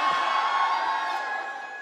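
A large crowd cheers and whoops for Bollywood actor Ranveer Singh at a Franck Muller watch brand event, a steady, dense roar of voices held at an even level throughout.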